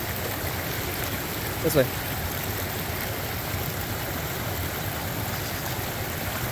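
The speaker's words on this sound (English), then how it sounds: "It is beautiful though with these clear creeks." A clear, cold mountain creek gives a steady rushing, babbling flow close by, with a short spoken phrase near the start.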